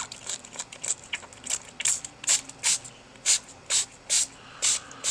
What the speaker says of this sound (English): we're going to spray this with our Chroma Mist